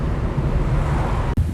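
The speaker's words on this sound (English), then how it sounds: "The wind's blowing like crazy." Strong outdoor wind buffeting a microphone in Wellington, a loud, continuous low rumble that cuts out briefly near the end.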